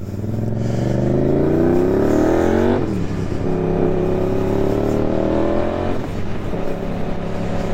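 A Suzuki GSX-8S motorcycle engine revs up through a rising pitch, drops briefly at a gear change, then climbs again, loud and close from the rider's position with steady wind rush throughout.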